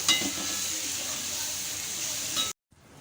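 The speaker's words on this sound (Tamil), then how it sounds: "அதனால் அடுப்பை வந்து லோ டு மீடியம் ஃப்ளேம்லேயே வச்சு இதெல்லாம் வதங்க விடலாம்" Tomatoes and onions sauté in oil over a low-medium flame, giving a steady, close hiss with a faint clink before it cuts to near silence.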